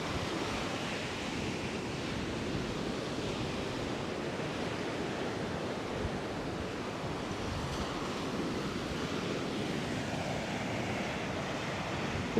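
Steady broadband wash of beach surf at Coney Island, Brooklyn, with continuous breaking waves and some wind rumble, fairly loud and unbroken, no voices.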